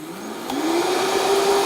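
A blender whirs up to speed while mixing dry powder, its loud motor whine rising in pitch and then holding a steady high drone, close and alone without talk.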